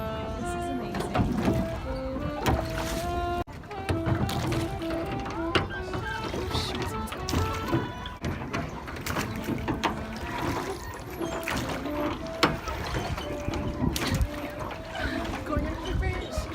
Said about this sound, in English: My romantic boat ride with Millie.